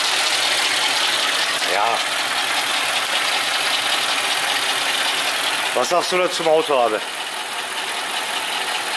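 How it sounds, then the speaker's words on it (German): Mercedes CL 500 V8 idling steadily with timing chain noise, drive belt removed, a close, even running tone with a German-speaking voice talking over it briefly. "So, Flachriemen ist draußen, aber Kettengeräusche hören wir immer noch."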